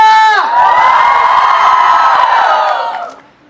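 A large crowd of college students roars and whoops loudly at a campus event, a sustained wall of cheering that swells, holds for a few seconds and then fades out.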